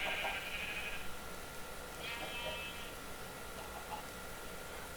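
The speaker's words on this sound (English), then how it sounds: "That's a pink sheep." A pink sheep in modded Minecraft gives two or three faint bleats, spaced a second or so apart, over a low hiss with no voices.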